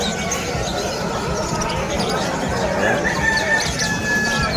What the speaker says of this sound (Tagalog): Ito mga ibon ni Erning yan.